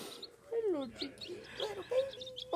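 Baby chicks peep in short, high, rising and falling calls, several bursts close by, with people talking around them.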